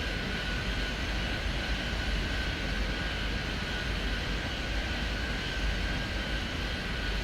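Airliners taxiing around an airport in the game Airport Madness 3D, a steady droning jet engine rumble with a faint high whine running throughout, continuous and unchanging without any talk.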